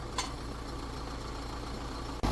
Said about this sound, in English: They brought another 20 bales over, and the tractor, they're going to unload this hay